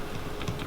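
Numbers tapped quickly on a calculator keypad, a brief close cluster of soft clicking keypresses.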